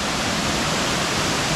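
West Burton waterfall in the Yorkshire Dales roars with a steady, dense rush of falling water, constant and loud throughout with no other sounds.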